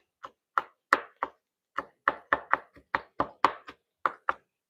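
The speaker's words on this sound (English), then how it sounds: "get these minced up" A knife minces vegetables for pico de gallo on a cutting board, with about seventeen crisp, close chopping knocks in an uneven, brisk rhythm and silence between strikes.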